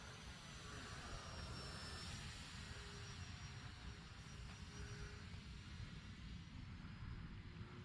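An RC Turbo Timber Evolution model plane flies on a 4S battery, its electric motor and propeller giving a faint, distant, steady drone with slight pitch shifts as it passes overhead outdoors.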